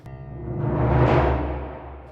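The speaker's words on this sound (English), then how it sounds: "So this timpani sound is Opus timpani from the Hollywood Orchestra Opus edition." Opus timpani from the Hollywood Orchestra Opus edition sounds a single rolling swell that builds to a loud peak and then fades away, heard alone.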